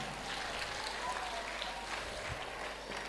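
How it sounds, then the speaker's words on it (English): Audience applause at a primary school leaving ceremony, a steady, even wash of clapping lasting the whole few seconds, with faint voices mixed in underneath. "One more round of applause for them."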